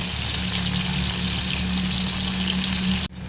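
Amudi fish pakora with a rice-flour coating frying in hot oil, a steady, dense sizzle and crackle running close and loud throughout, cutting off abruptly near the end.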